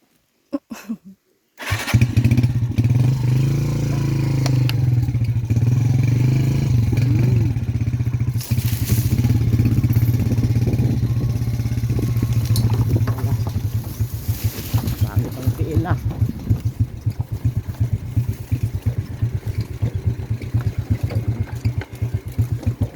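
A motorcycle engine starts with a sharp catch after a moment of quiet, then idles and runs loud and close for the rest of the stretch, with a steady chugging rhythm.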